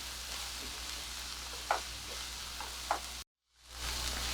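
Onion fries gently in a pan for bun dosa, a soft, steady sizzle close by with a couple of faint clicks of stirring. It cuts out briefly near the end and then resumes.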